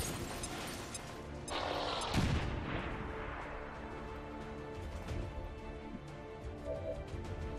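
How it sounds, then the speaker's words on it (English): A grenade goes off in the video game XCOM 2: a loud, broad blast with a rumbling tail, surrounded by dense, continuous game sound effects and background noise. "let's use Andromeda's grenade to clear this"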